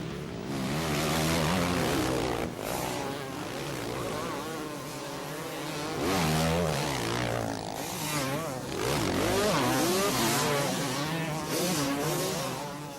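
Motocross bikes race in the second lap of the 1999 Motocross des Nations at Indaiatuba, Brazil, a close pack including 500cc machines, their engines whining and rising and falling in pitch continuously as they pass, loud and layered.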